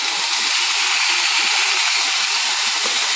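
Two salmon steaks set into a hot frying pan sizzle with a continuous bright crackling hiss, close and steady throughout.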